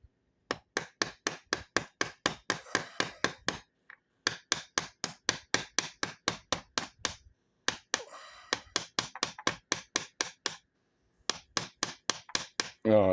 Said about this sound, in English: And then I'm gonna take tiny hammer.